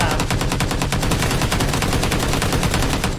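Sustained automatic fire from an M416 rifle in PUBG, a dense, steady stream of loud, close shots rattling in fast rhythm for the whole stretch with no pause.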